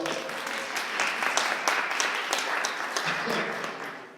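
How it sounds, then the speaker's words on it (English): Audience at a spiritual talk breaks into dense, steady applause, a full wash of many hands clapping with a few voices mixed in, holding at an even level throughout. "Let's hear a round of applause"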